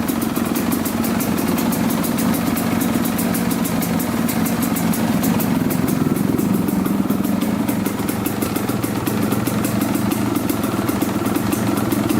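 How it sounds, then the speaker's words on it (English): A 1989 Suzuki RM250 two-stroke dirt bike idles close by, a loud, steady, rapid popping putter that runs unbroken throughout with no voices. "It's idling."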